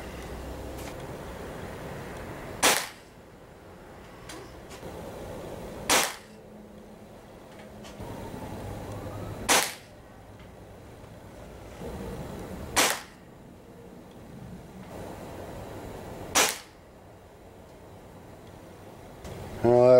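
A Stoeger ATAC .22 caliber gas-ram air rifle with a suppressor fires Barracuda Match pellets: five sharp, evenly spaced shots about three seconds apart, with quiet room noise between them.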